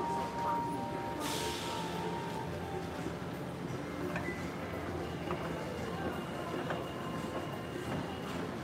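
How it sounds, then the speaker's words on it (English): A Kaohsiung metro train waits at a station, a low rumbling hum with a hiss of air and faint clanks and tones over steady station ambience. "there's a train here already"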